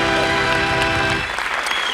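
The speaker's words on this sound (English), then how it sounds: "We can all applaud and say hello and how are you" Audience applause at a live show, a dense burst of clapping that rises briefly over lingering musical tones, then thins out toward the end.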